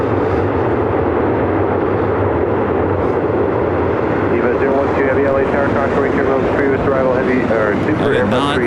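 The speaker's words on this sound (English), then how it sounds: "Super Airbus 380 just rolling out." An Airbus A380 rolls out on the runway at LAX with a loud, continuous engine roar that swells and shifts in pitch, close by and filling the scene while a voice talks faintly underneath.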